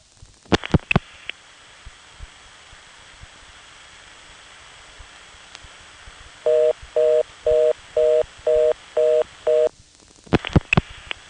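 A 1978–1980 coin telephone on a 4E switch answers a dialed 0 with a rhythmic handshake tone: six evenly spaced beeping bursts that follow a long hiss and clicks. Sharp handset clicks appear at the start and the end.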